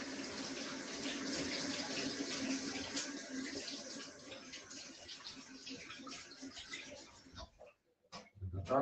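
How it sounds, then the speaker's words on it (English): Tap water running into a kitchen sink while hands are washed, a steady splashing rush that cuts off near the end, followed by brief clatter and a voice. "I'll wash my hands quick."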